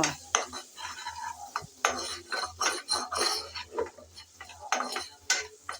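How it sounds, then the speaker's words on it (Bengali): Chopped onion with ginger-garlic paste being stir-fried in oil in a pan: repeated scraping and clinking strokes of a spatula on metal over a low steady sizzle, close and fairly loud, with no talking. "আদা রসুন আর পেঁয়াজ কুচি দিয়ে নেড়ে চেড়ে হালকা করে বেজে নেব"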